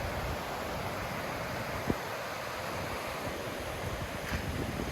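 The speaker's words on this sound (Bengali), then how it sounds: "হয়তো আপনারা পাহাড় থেকে নেমে আসা বৃষ্টির পানির শব্দ শুনতে পাচ্ছেন" Rainwater flows down from the hills in Penang Botanic Gardens, Malaysia, making a steady broad rushing wash with no breaks, moderately loud and with no voices over it.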